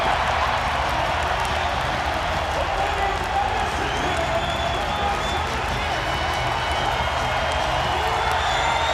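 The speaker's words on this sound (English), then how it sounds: "Listen to this crowd." A 16,000-strong wrestling arena crowd at a college match roars continuously, a dense, loud wall of cheering with scattered clapping and whoops that holds steady throughout.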